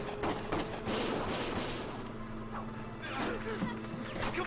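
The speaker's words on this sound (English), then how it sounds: "Gunfire!" Video game gunfire: a rapid series of sharp shots cracking out in bursts over a low background rumble, with no voices.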